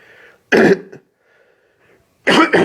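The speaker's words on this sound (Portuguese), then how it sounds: "Nossa, pigarro aqui tá ruim." A man clears his throat during a Bible talk, two loud harsh rasping bursts separated by a pause, with faint quiet murmuring between them.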